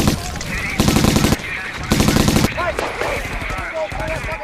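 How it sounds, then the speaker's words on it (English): Machine gun fire from a bunker in the Battle of A Shau Valley, two loud close bursts of rapid shots about a second long each, followed by scattered distant firing and someone speaking. "you gotta engage that machine gun that's coming out of that bunker up there"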